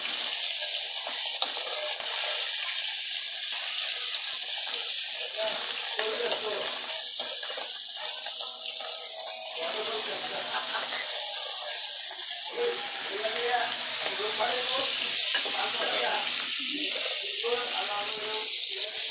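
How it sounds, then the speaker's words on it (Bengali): Tatkini fish frying in hot oil in a home kitchen: a loud, steady hiss-like sizzle runs throughout, with faint voice-like murmurs and clatter underneath. "মাছটা ভাজা নিতেছি, যেই মাছটা আগে ভাজমু আর ওই মাছটা পরে ভাজমু।"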